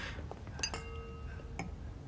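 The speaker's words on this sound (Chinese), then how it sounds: "来啊，我们敬顾 太太 一杯。" Glasses clink together in a few brief, bright touches during a toast at a dinner table, with faint room murmur underneath and no clear speech.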